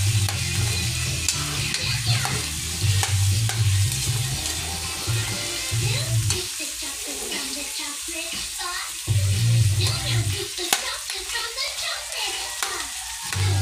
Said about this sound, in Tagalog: papirito-piritohin natin ng konti para talagang mami style